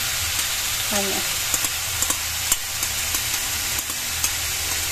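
Pork and tofu sisig fries over low heat in a pan with onions, a dense sizzle punctuated by scattered clicks and scrapes of stirring; a faint voice hums briefly early on.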